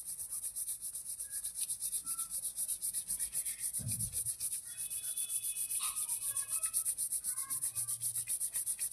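A wax strip rubbed firmly back and forth over skin during at-home waxing, a steady close, dry scraping swish that keeps going without pause, with a brief low thump partway through.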